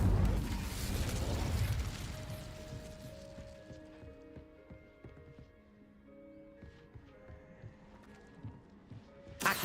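Incendio fire spell cast in Hogwarts Legacy: a loud crackling whoosh of flame at the start that fades into quieter mechanical ticks and soft tonal hums, with a sharp burst returning at the very end.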